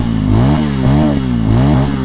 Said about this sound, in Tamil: நீங்கள் எக்ஸாஸ்ட் நோட்டை மட்டும் கொஞ்சம் பாருங்கள்